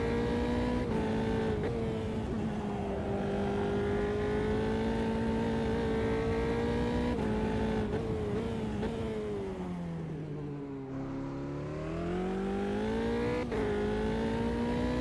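A Formula 3 race car in Automobilista 2 holds a steady, high engine drone, dips as it lifts off and then revs back up, with a few sharp gear-change blips. The engine stays loud and close throughout, with no talking.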